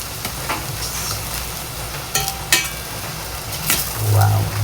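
A food mixture is stirred in a sizzling pan, with scraping strokes and light clinks of a spoon over a steady frying hiss, close and fairly loud, without talk.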